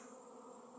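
A swarm of disoriented bees buzzes steadily during a hive removal outdoors near bushes and a felled tree, a continuous close drone with no talk.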